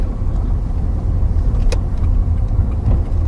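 A car driven during a driving lesson, slowing on the approach to a crossroads, with steady close engine and road rumble throughout and no talk.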